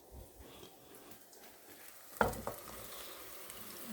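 Egg and spinach cooking in a pan, a faint low sizzle with one sharp clack of utensil or pan midway, close and quiet.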